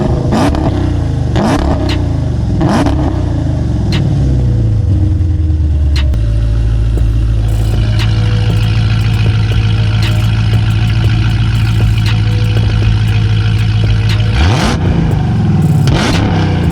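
A 1000 AWHP supercharged Jeep Grand Cherokee Trackhawk with Granatelli exhaust cutouts open, loud and close: several sharp revs, then a sustained high-rpm hold and a final rev blip, with no one talking.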